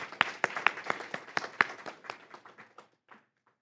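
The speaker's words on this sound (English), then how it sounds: "Let's give them a round of applause." Audience at a school board meeting claps for student spelling competition winners: a run of sharp, distinct handclaps from a small group that thins out and fades to a few scattered claps.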